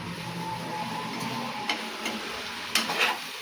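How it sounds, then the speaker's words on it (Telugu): Okra (bhindi) frying in a pan, a soft even sizzle with a few light clicks of a spatula against the metal near the end. "ఫ్రై అయిపోయింది బెండకాయ"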